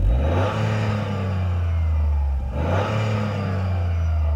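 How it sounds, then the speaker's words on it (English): A Toyota GR Yaris engine revs steadily at a standstill with a deep, throaty drone, easing off briefly partway through at the soft limiter and then climbing again; close and loud, with no talking. "So, revving at a standstill."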